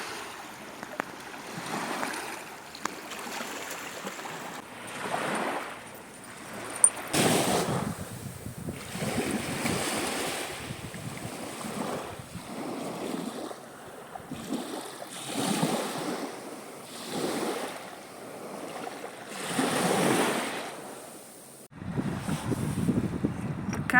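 Cold sea waves washing onto a beach near Sveti Vlas, a steady surging wash that swells and recedes in repeated rolling bursts, with wind rumbling across the microphone and no talk.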